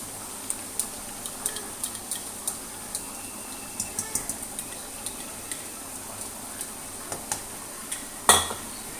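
Chicken karahi masala with yogurt is roasted and stirred over high heat, heard as a faint background sizzle under regular scraping clicks of a spoon on the pan, ending in one louder clatter.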